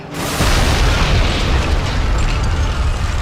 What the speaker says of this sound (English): An enormous explosion rings out from outside.